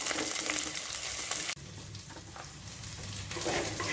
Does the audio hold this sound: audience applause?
no